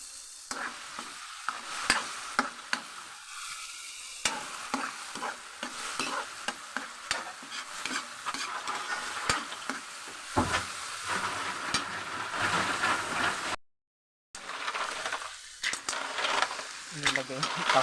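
Mussels sizzling and frying in a pan while being stirred, with scraping and clattering of the utensil in irregular bursts, fairly quiet and close, with brief speech.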